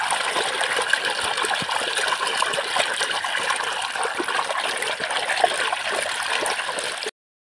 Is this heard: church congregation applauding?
no